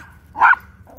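A single sharp dog bark rises briefly mid-clip while out on a walk, short and fairly clear against quiet outdoor background.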